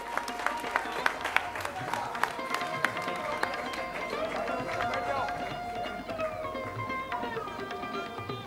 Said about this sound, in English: Can we have a round of applause for this forum